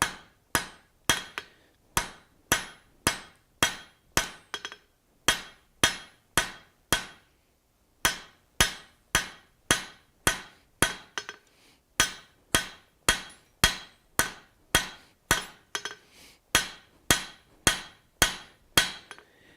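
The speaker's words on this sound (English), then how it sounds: "Now that I've got my taper started, I'll come over here and I can strike a little bit of a heavier blow now." A hammer strikes hot steel on an anvil while a taper is forged, landing sharp, ringing blows in steady rapid runs with brief pauses between groups, loud and close.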